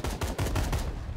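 Barrel explosion effect triggered in the Core game editor, a short burst of booming, crackling blasts in quick succession, loud and close, lasting about a second.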